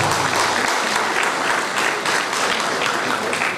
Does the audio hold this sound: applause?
yes